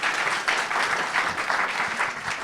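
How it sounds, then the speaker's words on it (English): Audience applause for a panel discussion at a food-future event, a dense, steady clapping that fills the whole stretch at moderate distance without a break. "So a round of applause, please."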